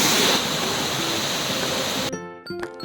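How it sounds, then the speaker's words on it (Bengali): Bamni Falls waterfall at Ayodhya Pahar roaring as a steady broadband rush of falling water, loud and continuous, then cutting to a quieter moment with faint tonal sounds near the end. "অযোধ্যার অন্যতম আকর্ষণ হলো এই বামনি ফলস।"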